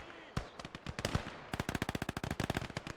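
Rapid bursts of automatic gunfire and single shots crackle in the World War II video game Gates of Hell, loud and dense, with the fire turning into a fast, continuous rattle partway through.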